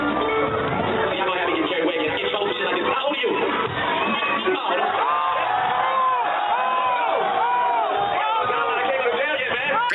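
A crowd at a 2010 concert cheers and whoops continuously, a dense wash of shouting voices with music underneath, steady and loud throughout.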